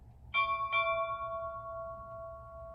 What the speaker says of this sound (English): The final few traditional clocks are ship's bell